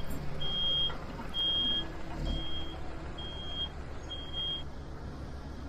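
A concrete truck at a cold-weather pour backs up on a job site, its backup alarm sounding five evenly spaced high beeps over a low rumbling diesel idle, moderately near.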